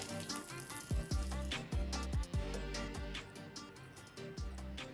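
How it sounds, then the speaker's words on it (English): Pizza cutlets sizzle and crackle steadily in hot frying oil, with a continuous close hiss broken by several louder bursts of spatter. "I'm going to fry the other cutlets in the same way"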